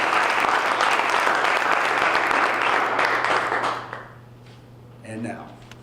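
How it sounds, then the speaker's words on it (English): An awards ceremony audience gives a sustained round of dense, even applause for about four seconds. It then fades quickly into quiet, and a brief voice follows. "Let's have a round of applause for the professionalism and every one of these portfolio managers."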